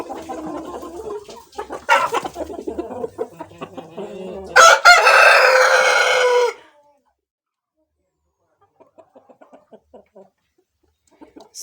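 Chickens cluck and scratch in a poultry house, then a rooster lets out one loud, close crow. Near-silence follows, with a few faint clicks.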